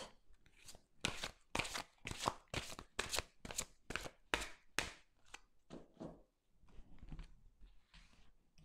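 Tarot advice cards for an Aries reading are shuffled and handled in a quick run of about a dozen crisp, rhythmic riffles, followed by softer scattered card rustles, close by with no talking.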